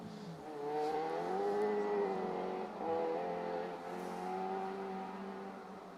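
A rally car on a forest stage of the Grizedale Stages Rally passes at moderate distance, its engine note climbing and dropping through gear changes in a steady drone over about six seconds.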